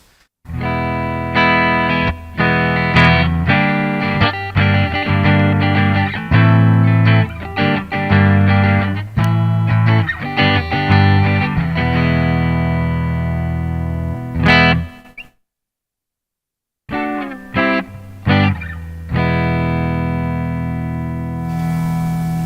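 Ibanez RG421 electric guitar on the neck pickup in series, playing chords and single notes with a warm, full tone and light spring reverb, strummed rhythmically, with a brief silent gap near the end.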